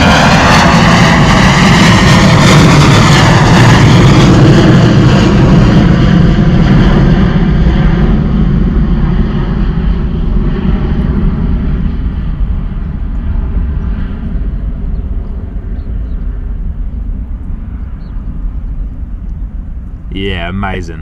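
An airliner in holiday livery takes off from Bristol Airport runway 09, its loud, close engine roar gradually fading as it climbs away, with a brief tonal blip at the end.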